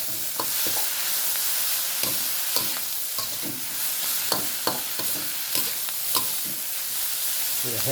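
Field rat meat and holy basil stir-fry in a hot pan, a steady loud sizzle broken by regular scraping clacks of a spatula turning the food, with no talking.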